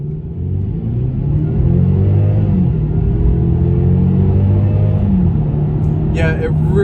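A 2020 Genesis G70 with a 2.0 turbo and all-wheel drive pulls away hard from a stop, a loud close engine drone climbing in pitch through a shift, with a brief voice at the end.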